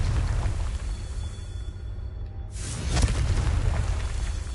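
A Confringo spell blast in Hogwarts Legacy, a sudden loud booming burst at mid-clip that swells into a broad crackling roar over steady low rumble, alone without talk.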